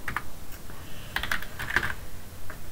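Keystrokes on a computer keyboard while a key-input prompt runs in an emulator of the ZVT SPU-800 microcomputer, heard as a few quick, light clicks in short clusters, close and fairly quiet, with no talking.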